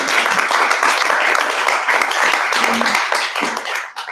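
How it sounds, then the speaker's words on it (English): A room full of people gives a panelist dense, sustained applause that holds steady for about four seconds before quickly fading out. "Let's give him a round of applause."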